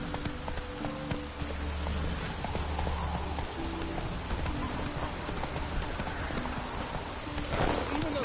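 Horse hooves clip-clop in a quick, steady galloping rhythm as the horse Roach runs in a PS4 video game, with faint ambient background underneath.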